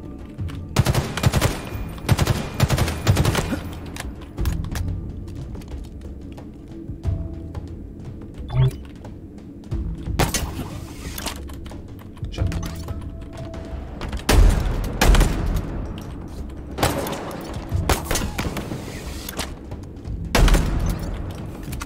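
Rapid automatic gunfire from a weapon in the video game Halo Infinite, loud bursts of repeated shots separated by short pauses, with game effects and a voice talking underneath.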